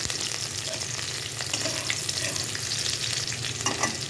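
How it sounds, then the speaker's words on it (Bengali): Onions frying in a pan, a steady dense sizzle with occasional stirring scrapes, close and continuous with no voices. "এই পেঁয়াজগুলোকে একটু ভাজা ভাজা করে নিতে হবে"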